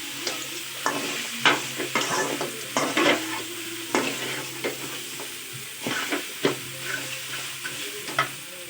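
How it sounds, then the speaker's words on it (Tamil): Crab is stirred with salt in a pan over heat, giving repeated scraping and clattering strokes over a steady background sizzle, close and moderately loud with no talking. "இப்போ வந்து நண்டுக்கு தேவையான அளவுக்கு உப்பு போட்டுக்கிறேன். உப்பு போட்டு நல்லா கலரி விட்டுறேன்"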